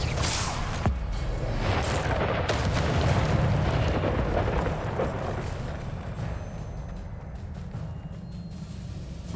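An Incendio fire spell cast in Hogwarts Legacy, a loud whooshing roar of flame that swells and holds for several seconds, then tapers off, with no talking over it.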